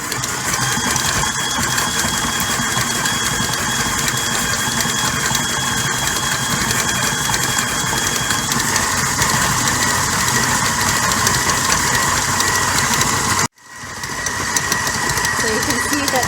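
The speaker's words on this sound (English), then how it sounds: "we're just putting that in the mixer, and we're going to mix it until smooth" A stand mixer beats unsalted butter and sugar together for sweet tart dough, giving a steady close motor whir with a rhythmic churning that runs unbroken, then cuts out abruptly and restarts more faintly near the end.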